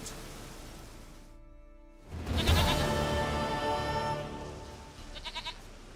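A goat in The Witcher 3 video game gives a loud, wavering bleat after a brief silence, followed by a shorter second bleat near the end, over steady game ambience.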